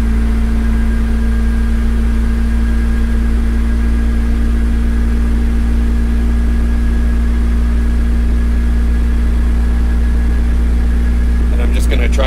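A high-compression turbocharged Acura Integra engine runs steadily at a constant idle, a loud, even drone with a low hum that holds unchanged throughout.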